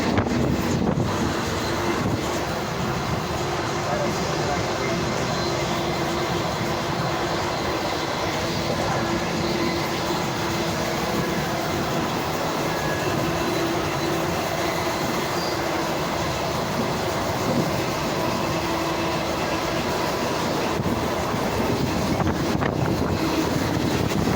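A train rumbles along steadily near Nagpur, India, with continuous rolling clatter and wind noise, loud and constant throughout, no talking.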